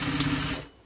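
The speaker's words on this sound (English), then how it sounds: "Go and repeat my stitching for a second row" A sewing machine stitches a second row along a bag gusset in one short, fast, buzzing run that stops abruptly.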